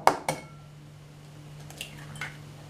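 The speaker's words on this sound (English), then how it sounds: "I'm going to crack or put my eggs into the mixing bowl" Three eggs cracked into a mixing bowl for self-raising flour pancakes: two sharp clinks of shell on the bowl rim close together, then two fainter taps a moment later, with a steady low hum behind.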